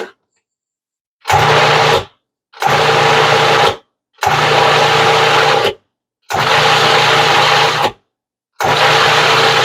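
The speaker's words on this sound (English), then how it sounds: "We'll go ahead and put the cover back on the food processor and give it about another 10 pulses" A food processor blending cauliflower mash ingredients runs in five loud, even pulses of about a second each, separated by short silent gaps, its motor whirring steadily during each burst.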